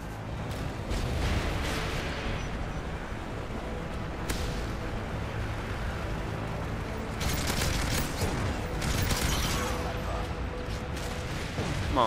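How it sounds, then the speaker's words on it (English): Strafe-run airstrike in Modern Warfare 3 multiplayer: dense, continuous gunfire and rumbling blasts fill the whole stretch, with sharper bursts partway through, while a player talks over the chaos. "Maybe that strafe run will get him."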